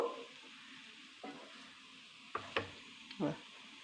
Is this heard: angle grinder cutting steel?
no